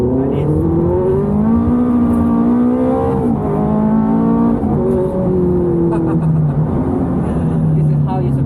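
A Ferrari F430 revving hard while drifting, its engine note climbing and falling in repeated loud surges, with a voice talking over it.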